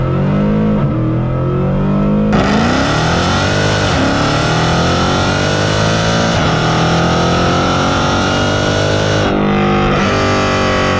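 A Mercedes C63 AMG engine accelerates hard with traction control switched off, revving up loud and close in a continuous rising roar with gear-change dips and no talk.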